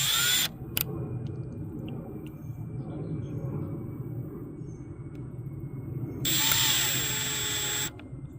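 A power drill whines in two short bursts at the start and end while drilling a plastic intake manifold for brass thread inserts, with low rustling and handling noise between them, fairly close.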